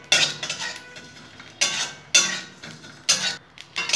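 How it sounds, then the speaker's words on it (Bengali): Whole spices (panch phoron, cumin, carom seeds and fennel) being dry roasted in a pan for tamarind pickle, heard as repeated bursts of dry rattling and scraping as the seeds are stirred, close and moderately loud with short pauses. "ভালো করে টেলে নেব।"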